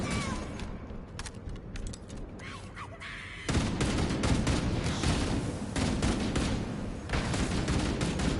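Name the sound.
gunfire from a bunker in the video game Halo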